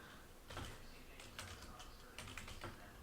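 Quick bursts of typing on a computer keyboard while entering data into a fire incident report form, light clicky keystrokes in short irregular runs over a faint room hiss.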